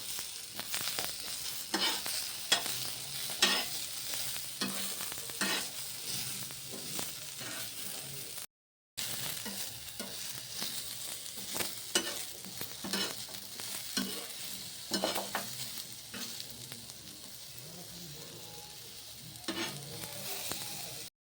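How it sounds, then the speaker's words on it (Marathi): Spices with ginger, garlic and onion fry in a pan for a pumpkin bhaji, a continuous close sizzle broken by repeated scraping strokes of a spoon stirring, with one brief silent gap and no talking. "आता आपल्याला हे सगळं व्यवस्थित भाजून घ्यायचं आहे आपण अर्धा इंच आलं पण घालून घेऊयात"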